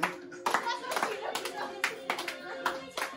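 An audience at a Teej celebration claps in a run of sharp, uneven bursts, with voices and a child's chatter mixed in nearby.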